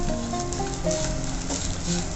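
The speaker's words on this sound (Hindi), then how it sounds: "सारी चीजों को चलाते हुए हमें अच्छे तरह से मिक्स कर लेना है।" Upma ingredients, including cashews and pomegranate seeds, being stirred in a hot kadhai, giving a short, steady close sizzle with soft stirring scrapes.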